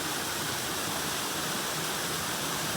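A rushing stream of water fills the scene with steady, loud, unbroken hiss from close by, with no other sound standing out.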